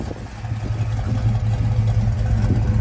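A 1976 Plymouth Trailduster Sport engine runs while driving, a loud, steady low rumble with slight fluctuations in throttle, close and continuous.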